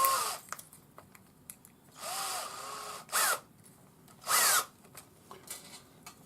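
A cordless drill with a 4.5 knitting needle clamped in its chuck, used to twist wire, whirs in several short bursts separated by quiet gaps, close and moderately loud.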